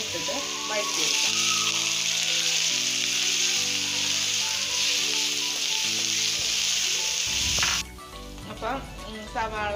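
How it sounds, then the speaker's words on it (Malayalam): Chopped onion sautéing in a pan while making stuffed chicken buns, a steady loud sizzle and fry running almost the whole time with a few stirring knocks, cutting out near the end; background music plays throughout. "ഒരു സവാള ചെറുതായി അരിഞ്ഞിട്ടുള്ളതാണ്, അതും കൂടി ഒന്ന് ഇട്ടിട്ട് വഴറ്റിയെടുക്കാം"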